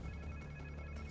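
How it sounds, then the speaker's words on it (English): A brief, faint electronic phone ringtone in the video game Spider-Man 2, a steady tonal ring over a low hum. "Sounds like somebody's phone."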